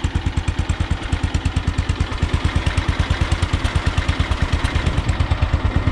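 A small garden tractor engine idles steadily with a rapid, even chugging pulse and light mechanical clatter, running alone without any talk.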